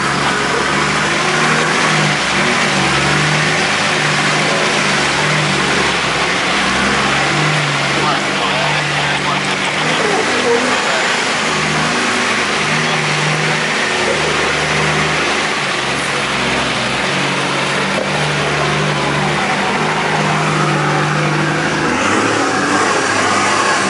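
4x4 rock crawler's engine revving and straining as it crawls over rocks, rising and falling in drawn-out bursts and fairly loud, with voices calling out around it.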